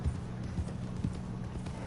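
A horse's hooves clip-clop in Red Dead Redemption 2, a quick run of soft, muffled thuds over a low rumbling background, with no talk.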